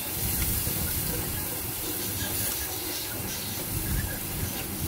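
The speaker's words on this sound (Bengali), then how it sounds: "আবার নাড়াচাড়া করলাম, মাছটা ভাজা ভাজা করলাম।" Large prawns frying in hot oil in a pan, stirred around for a Bengali jackfruit-and-prawn curry, giving a loud, dense, continuous hiss and sizzle close up with no voices.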